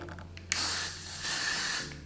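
A brief makeup setting spray bursts out with a soft click, followed by a steady airy hiss, then a second hissing spurt, close and fairly quiet.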